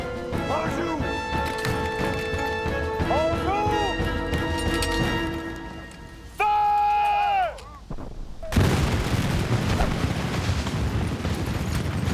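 A volley of muskets fired by a French infantry line closing on British ranks, a sudden loud crashing burst of gunfire over an ongoing battle din with music, then sustained rumbling noise.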